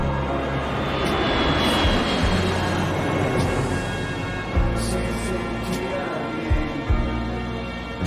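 A steady, loud, roaring airplane engine near Buenos Aires, with faint voices at times.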